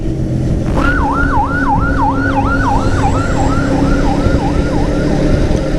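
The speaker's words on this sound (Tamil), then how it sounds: "ஆம்புலன்ஸ் பறக்க கிளம்புது" An ambulance siren wails in a steady rising-and-falling pattern on a narrow road, loud and close at first and slowly fading, over constant road and engine noise.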